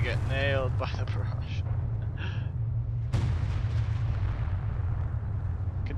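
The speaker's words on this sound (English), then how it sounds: "Oh, they get nailed by the barrage." Artillery barrage in Company of Heroes 2 striking units, a sharp blast near the middle followed by rumbling booms over a constant low battle drone, with a voice talking early on.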